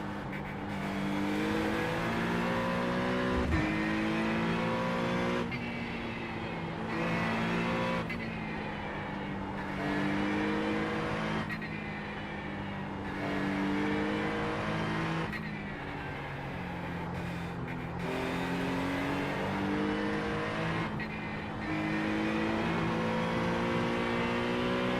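A race car engine in the iRacing sim revs hard and steadily through the gears, rising and dropping in pitch with repeated shifts, loud and continuous with no talk.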